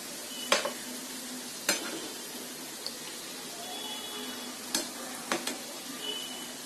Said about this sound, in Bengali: উল্টে পাল্টে ভালো করে ভেজে নিতে হবে।